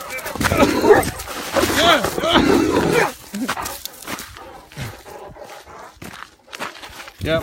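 An excited dog jumps and barks around its owner on a winter walk, with scuffling movement and footsteps close by; a voice talks over the commotion, which grows quieter after the first few seconds.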